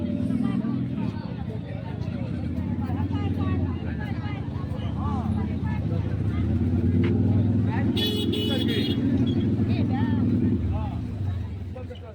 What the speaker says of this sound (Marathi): अरे गाडीचा आवाज खतरनाक वाटतो